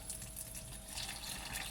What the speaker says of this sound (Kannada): ನೆನೆಸ್ಕೋಬೇಕು. ಈ ಥರ ನೀರು ಹಾಕಿ